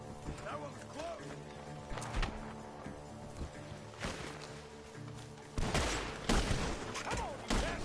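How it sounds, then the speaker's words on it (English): Scattered gunshots ring out in Red Dead Redemption 2, coming from a barn in a rural setting, sharp cracks spaced irregularly with a louder burst toward the end, mixed with horse hooves and voices talking. "The gunshots are coming from that barn."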